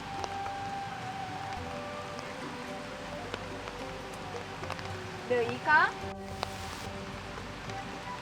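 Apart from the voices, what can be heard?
rain falling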